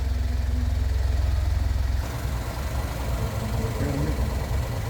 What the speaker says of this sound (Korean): 엔진 소음 들어보세요